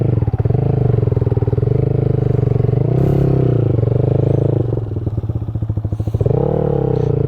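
A motorcycle engine stuck in thick mud revs loudly and labors continuously, surging and bogging down repeatedly as if struggling to move, with clattering underneath.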